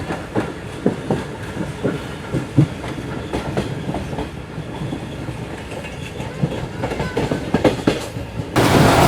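The Karakoram Express in a new rake runs on rails between Karachi stations, with a steady rumble and repeated clickety-clack of wheels over rail joints, loud and close from inside the moving train, ending in a sudden burst of louder noise.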